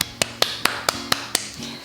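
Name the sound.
hand clapping to call dogs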